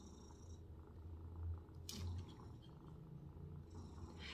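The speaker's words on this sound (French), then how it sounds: "Tu ronronnes, toi." A cat purrs steadily and quietly up close, a low continuous rumble with slight pulsing and a faint hiss in the background.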